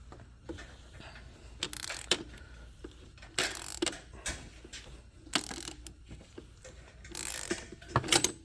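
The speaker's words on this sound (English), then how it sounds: "I'm going to need a long extension to pass through all this, and again, the big ratchet, 1/2 inch" Half-inch ratchet on a long extension working under a 2012 Volvo XC60 during an oil change: repeated bursts of sharp metallic clicking and ratcheting, close and fairly loud, with brief pauses between strokes and no talk.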